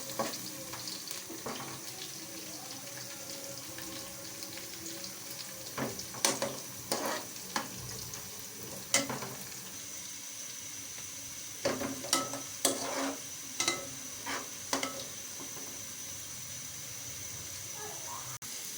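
Onions frying in a pan for aloo gobi, a steady low sizzle running throughout, with scattered clinks and stirring knocks of a utensil against the pan.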